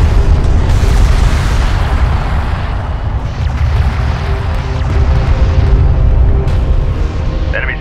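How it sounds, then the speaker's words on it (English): An armored vehicle comes under fire in the Homeworld: Deserts of Kharak strategy game, with loud, continuous rumbling explosions and deep booms layered thickly through the whole stretch, heavy low-end battle noise throughout. "Armored vehicle is taking fire."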